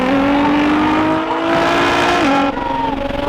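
A Nissan GTR accelerates hard in a highway race, a loud rising engine whine climbing steadily through the gears with a brief dip at a shift, heard up close from a nearby car.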